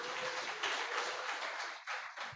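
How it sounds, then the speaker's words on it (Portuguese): A church congregation applauding during a Sunday evening service, a dense patter of many hands clapping together, fairly faint and distant, with a few looser claps tailing off at the end. "Pode aplaudir ao Senhor"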